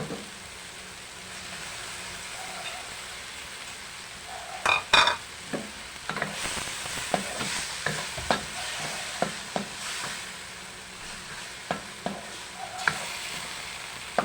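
Marinated chicken is stir-fried in a pan: a low background sizzle runs throughout, broken by repeated sharp scrapes and stirring clatters from close up, and no one speaks.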